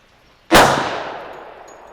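.45 ACP pistol fired at a hard seltzer can: a single loud, sharp shot close by, followed by a long, fading echo after near silence.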